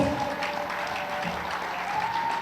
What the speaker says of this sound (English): Big hand to you both.